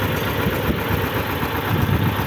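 A three-cylinder D130 tractor engine, the same type as in a T-25, idles steadily nearby with a dense, low rumbling throb that holds constant throughout, with no voices.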